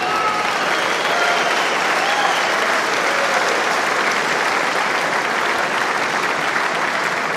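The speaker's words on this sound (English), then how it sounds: "you can hear the applause in the room there" A room full of people at the AFL draft breaks into steady, sustained applause for a newly selected player, a dense crowd clapping throughout with a faint murmur beneath.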